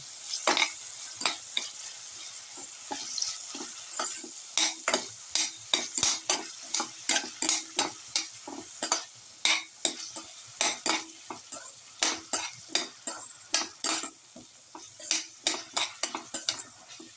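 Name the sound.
winter melon being stirred and sautéed in a pan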